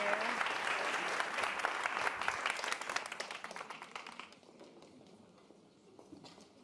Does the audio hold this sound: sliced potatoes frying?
no